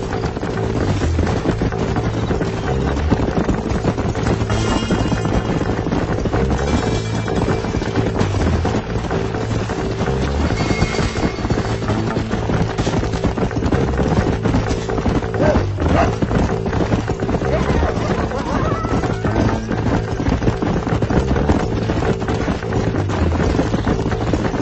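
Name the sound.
horses trotting, video game Red Dead Redemption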